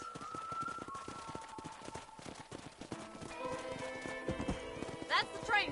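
In a Western video game, horse hooves clip-clop in a steady, close walking rhythm. Game music swells in partway through, and a horse whinnies near the end.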